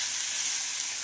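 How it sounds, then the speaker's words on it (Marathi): Eggplant bharit with fresh coriander frying in a pan, a steady close hiss and sizzle that holds evenly throughout with no voices. "कोथिंबीर झाल्यानंतर आपल्याला थोडं 2 मिनिटं फ्राय होऊ द्यायचं आहे याला।"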